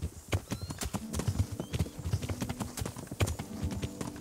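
Horses gallop with riders in Kingdom Come: Deliverance, a steady, fairly close run of hoof clip-clops with occasional whinny-like tones, heard alone with no talk.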